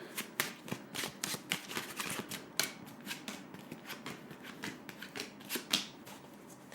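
Tarot cards being shuffled: a quick run of crisp, close riffles and soft slaps, steady and fairly quiet, with no voices.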